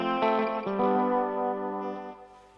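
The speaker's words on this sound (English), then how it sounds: "And the good old space echo here still sounds like an hour ago" A Roland Space Echo tape echo unit processes a sustained, harmonically rich guitar tone, giving a steady, slightly distorted, chorus-like wash with repeating echoes that hold for about two seconds before fading.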